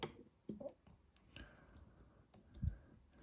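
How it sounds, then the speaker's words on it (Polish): The lock of a Civivi Vision FG folding knife clicks as it is released and the blade swings shut, a few sharp close clicks spaced irregularly with a louder snap near the end. "I wówczas sprężyna powoduje, że ta blokada zapada, odciągamy i głownia może się swobodnie schować."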